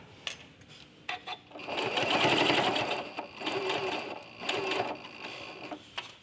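A sewing machine stitches quilt binding in close-up, running in several whirring bursts separated by brief pauses and sharp clicks.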